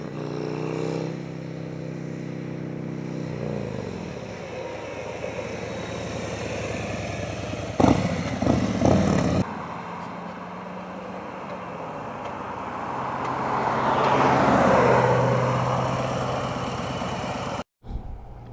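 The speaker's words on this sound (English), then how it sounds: "Now let's get on the bike and I'm going to show you what it looks like when you make quick stops from about 60 miles an hour." Motorcycle ridden on a street with quick stops from about 60 mph, a steady engine drone that shifts and rises and falls with wind noise, with brief rattling bursts midway.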